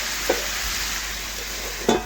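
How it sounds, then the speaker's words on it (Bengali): Vegetables sautéed with spices in a pan, stirred repeatedly so a soft, steady sizzle runs throughout, with two sharper scraping clinks of the spoon against the pan near the start and end. "এইভাবে নাড়াচাড়া করে বেশ কিছুক্ষণ কষিয়ে নিলাম"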